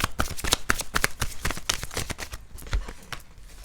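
Tarot cards being shuffled close up, a rapid series of crisp riffling flicks and taps that slow and soften toward the end.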